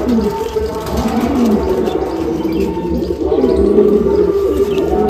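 Cooing from a small Madrasi pigeon, with steady bird murmurs and background noise running continuously at moderate loudness; no speech stands out.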